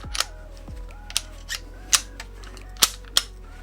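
A gas-powered airsoft Kar98k rifle with a double bell, shell-ejecting design and real wood stock is worked close up, giving a series of sharp metallic bolt clicks and clacks as a shell chambers, spaced irregularly over a few seconds.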